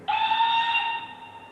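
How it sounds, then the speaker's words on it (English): A single steam locomotive whistle from a Hornby HM6000 model train sound controller, one sustained shrill blast of about a second that tails off, clear and alone. "In the Steam era, we have, of course, I showed you the two whistles. I'll just play them again."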